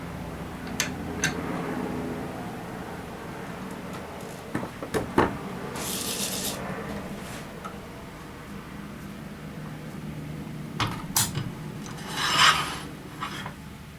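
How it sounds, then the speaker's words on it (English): A woodturning gouge is sharpened with raspy, scraping strokes against an abrasive, close and intermittent, with short hissing bursts and a few sharp ticks over a steady background hum. "I just put a nice sharp edge on my gouge."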